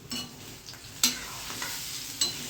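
Patra, spiced gram-flour-coated leaf rolls, frying in hot oil with a steady low sizzle throughout, broken by a few sharp scraping or stirring clicks near the start and midway.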